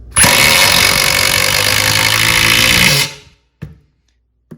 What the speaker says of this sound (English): now let's give the triple hammer a shot here. I'm going to use the same hole that it drilled in before.